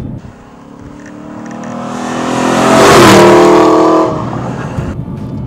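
An Aston Martin V8 Vantage GT engine revs up loudly, climbing to a sustained roaring peak before dropping back to a rumbling idle; no talking.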